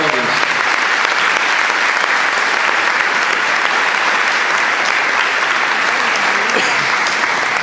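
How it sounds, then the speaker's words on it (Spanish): A church congregation applauds steadily and loudly for the whole stretch, a dense wash of many hands clapping at once with voices mixed in. "¿No le da gana darle un aplauso al Señor?"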